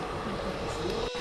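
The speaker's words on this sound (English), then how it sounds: "That's my train." Train arriving at a station, a steady rumbling roll with faint tonal squeal, heard close and moderately loud for a brief moment, with no voices.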